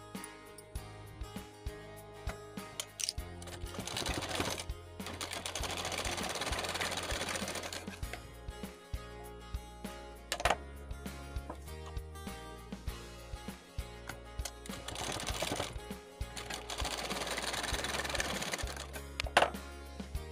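An electric sewing machine runs in several sustained bursts while stitching tucks on a blouse neckline, its fast needle chatter and motor hum close and steady, pausing briefly between seams.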